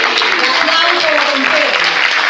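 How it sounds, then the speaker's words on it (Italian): Dense, loud audience applause fills a live Neapolitan song show, steady throughout with a voice faintly audible underneath. "L'applauso lo conferma"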